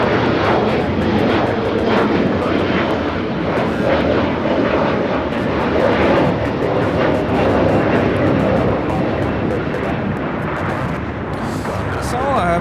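Airplane engine roar at Los Angeles LAX airport, a loud, steady, broadband rumble held throughout, close and dominant, with a voice audible alongside.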